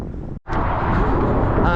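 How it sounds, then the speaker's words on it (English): Strong gusting wind roars across the microphone during an outdoor run, a loud continuous rumble broken by a brief momentary drop before surging back. "the wind, I have to say, was getting to me at this point"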